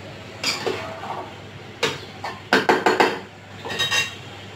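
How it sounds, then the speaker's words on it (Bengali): A spoon scrapes and clinks against a pan as bottle gourd peel is stirred into spices. Several sharp metallic taps and scrapes come close up over a low background hum. "আমি মশলার ভিতরে ভালো করে নেড়ে দেব"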